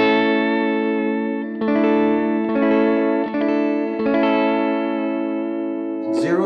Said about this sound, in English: Texture at 10, it just blends a little bit more